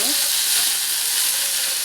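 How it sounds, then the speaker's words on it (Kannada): Sambar balli leaves, also called doddapatre, wilting in a hot pan, giving a dense, even sizzling hiss that stays close and steady for a couple of seconds with no other sounds. "ಇವಾಗ ಇದು ಬಾಡ್ತಾ ಇದೆ. ಸ್ವಲ್ಪ ಬಾಡಿಸ್ಕೊಳ್ಳೋಣ."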